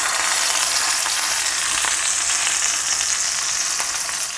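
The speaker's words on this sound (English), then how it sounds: "And the oil is what's going to do the searing." Pork searing in hot oil in a pan, headed for BBQ pulled pork: a loud, steady, close sizzle with a bright hiss that runs unbroken and fades slightly at the end.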